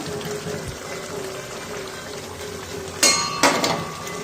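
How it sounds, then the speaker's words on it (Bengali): Boiled spinach tipped into a pan of cooking chicken, giving a steady frying hiss, then two bright clattering bursts near the end as the greens and utensil hit the pan. "এবার আমি পালং শাকটা দিয়ে দেবো যেটা আমি সিদ্ধ করে রেখেছিলাম"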